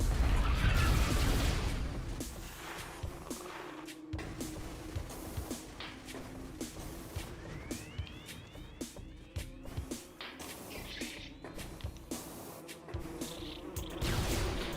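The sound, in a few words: bees buzzing in the video game Metroid Prime Remastered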